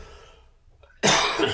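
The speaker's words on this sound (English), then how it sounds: "There's going to be a lot of editing of coughs in this." A single sharp cough bursts out loudly and close after a near-silent pause, with a brief rough tail.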